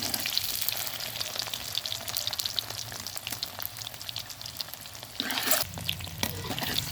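An egg frying in a pan until light brown, giving a continuous crackling sizzle with scattered pops and a brief louder burst of spattering near the end, close by with no talk.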